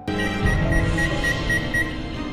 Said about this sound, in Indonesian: alarm ujian berbunyi